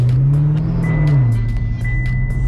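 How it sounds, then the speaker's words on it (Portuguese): A Chevrolet Camaro arriving in a residential condominium, its engine droning and revving steadily and loud and close throughout, with a brief rise and dip in pitch midway. "O Camaro tá chegando."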